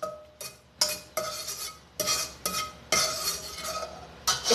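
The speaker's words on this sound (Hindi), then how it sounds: "उसको आप उसके अंदर सबसे पहले डालेंगे जिंजर गार्लिक का पेस्ट" Ginger garlic paste cooks in oil in a pan while it is stirred, giving a string of close scraping, sizzling bursts with clinks of the utensil against the metal, and no voices.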